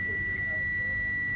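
A steady high-pitched multimeter continuity beep sounds continuously over a low background hum while probing an HP 840 G3 laptop with a short.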